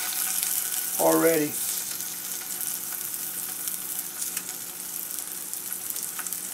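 SPAM fries in a pan with a steady, close sizzle and hiss that lasts the whole time, while a voice speaks briefly near the start.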